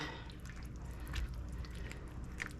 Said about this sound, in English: Now, we're gonna mix all this goodness up.